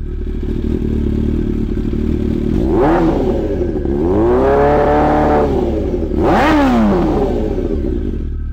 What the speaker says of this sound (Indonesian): ketika mendengar mesin sepeda motorku berbunyi